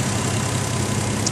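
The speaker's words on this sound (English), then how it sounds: "The engine is on right now." A 1997 Toyota Supra with a 3.0L twin-turbo engine, Blitz blow-off valve and aftermarket air cleaner, idles in a smooth, steady low drone, close and continuous with no other sounds.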